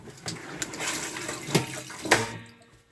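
Water gushing through the plumbing of a Holiday Rambler RV during summer preparation, a steady hiss with sputtering bursts and pops from air in the lines, fading out near the end.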